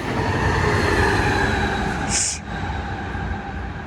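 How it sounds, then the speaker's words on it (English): A train rumbles steadily past nearby, a continuous loud roar of wheels on rails with a brief high squeal partway through. "quiet train."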